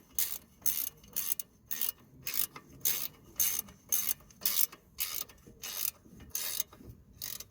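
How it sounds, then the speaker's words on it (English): A ratchet tightening the 15mm bolts of a caliper clamp on a Jaguar XF wheel hub: a steady run of about fifteen rhythmic, close clicking strokes, evenly spaced. "just gonna tighten the bolts on the clamp"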